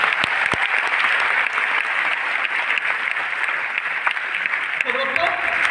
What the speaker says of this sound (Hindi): ओनली प्लेटफॉर्म को जोरदार तालियां तो होना चाहिए।